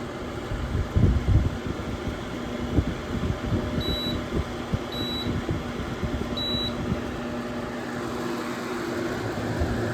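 An unbranded 8000 BTU portable air conditioner set to dry mode hums with a steady fan drone, and three short electronic beeps sound partway through.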